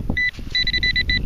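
A high electronic tone sounds in short repeated bursts, one brief beep then a longer broken run, over low outdoor rumble.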